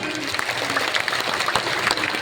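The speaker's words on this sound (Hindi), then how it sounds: "श्री अजय जी को जोरदार ताली बजा के धन्यवाद दो" Audience applause at a multi-day Hindu religious discourse gathering in Raipur, Chhattisgarh: dense, continuous clapping from a crowd, steady and fairly loud throughout.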